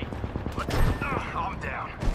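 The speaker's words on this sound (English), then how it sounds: "They're shooting at me." Bursts of rapid gunfire in the Apex Legends video game, with game effects and a voice mixed in.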